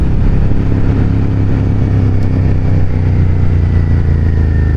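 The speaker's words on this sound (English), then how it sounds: "kind of a naked generic commuter bike that sounds like this" A loud Suzuki SV650 motorcycle engine running close by, a steady throaty roar with no talking.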